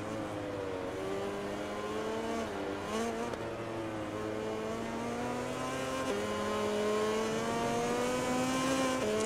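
Ducati MotoGP bike accelerating in the MotoGP 20 video game at Brno, a continuous high engine whine climbing in pitch through gear changes, loud and steady with no talk.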